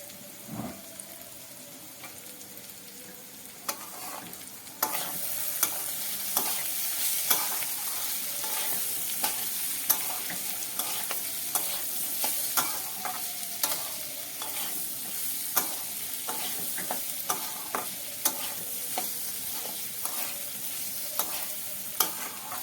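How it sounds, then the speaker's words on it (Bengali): Chire polao, a flattened rice pulao, stirred in a pan: a continuous frying hiss broken by many sharp scrapes and taps of a spoon against the pan, growing louder after a quieter start, no voices. "দিয়ে এবার আমরা ভালো করে এটাকে নাড়িয়ে নেব।"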